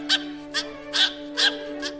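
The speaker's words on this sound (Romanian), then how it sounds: "te-ai văzut câte nuanțe a avut lătratul ei" A small female dog barks several times in a quick, uneven series of short barks. The barks are close, alone over a faint steady hum.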